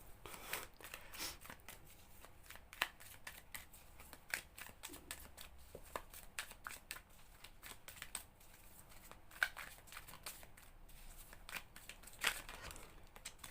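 Tarot cards are shuffled by hand in a steady stream of soft, papery flicks and riffles, faint and close, with no voices present.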